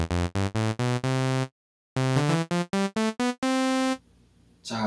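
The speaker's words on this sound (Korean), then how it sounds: "일단 첫 번째 오실레이터에 이렇게 소우 웨이브를 불러옵니다." A raw sawtooth wave from the first oscillator of the Vital software synthesizer plays in short, bright, buzzy staccato notes, followed by a longer held tone, a brief silence, another run of notes and a noisy wash at the end.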